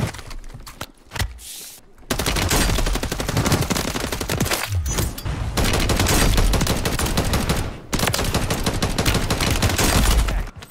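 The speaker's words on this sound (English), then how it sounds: "Gunning with the fucking fire shotgun" Fire shotgun in a video game blasting in dense, rapid volleys, loud and close, near-continuous bursts after a short quieter opening, with little talk over it.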